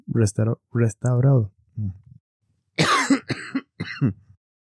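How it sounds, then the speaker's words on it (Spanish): Several harsh coughs in a cluster, then a louder burst of rough, hacking coughs, close to the microphone with no talking. "Perdón si me escuchan toser mucho"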